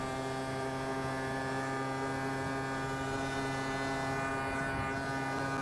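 A Yamaha BWS 50 scooter, part of a Stage6 sleeper build, drones steadily while being ridden at speed, a constant engine tone with no talking.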